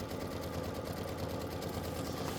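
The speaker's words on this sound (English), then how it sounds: "So I'm just going to go ahead and let it do the tack down, the background tack down." Embroidery machine running a background tack-down stitch on fabric for a Kimberbell Star Spangled Beauty quilt block, a steady dense mechanical whir filling the whole span at an even level with no talk.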